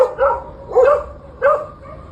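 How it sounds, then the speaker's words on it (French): Stray dogs in Morocco bark three times at night in separate, fairly loud, close yelping barks, spaced roughly evenly with short pauses between them. "Les chiens errants."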